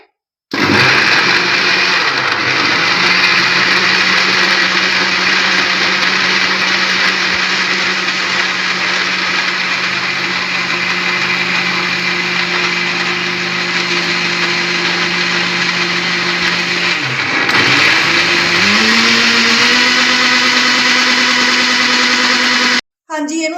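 A kitchen mixer grinder whirs loudly as it blends guava with cold water into juice. The motor runs continuously, briefly changes pitch as it slows and restarts near the end, then stops abruptly, and no one talks over it.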